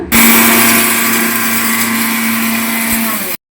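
Electric mixer grinder whirring steadily for about three seconds as spices are ground for holige saaru, a loud continuous motor hum with a high whine, then cutting off abruptly into silence.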